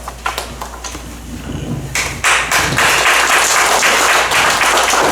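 A church congregation in a large sanctuary breaks into loud applause for the preacher coming forward, scattered claps and thumps building at about two seconds into dense, sustained clapping.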